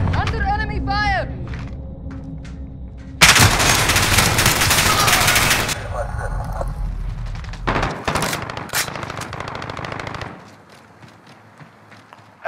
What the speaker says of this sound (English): Under enemy fire!